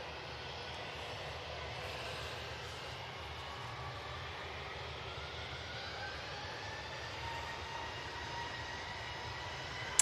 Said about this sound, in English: So, back off to Heathrow with this A319.